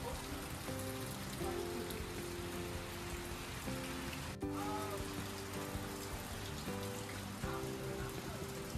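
Light rain falls steadily at a construction camp, a soft, even patter on surfaces that continues throughout with faint tonal background sounds and no talking.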